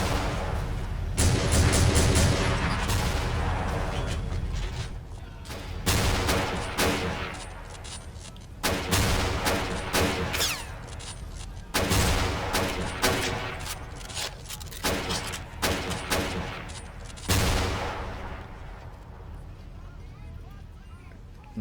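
HESH rounds and small-arms gunfire in the Men of War: Battleaxe war game, with a dense barrage of loud sharp blasts and bursts coming in irregular clusters across the whole stretch, and a voice talking over them.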